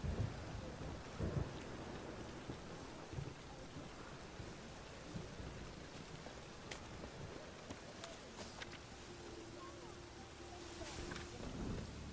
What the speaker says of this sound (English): Rain was coming. Felt it in my bones.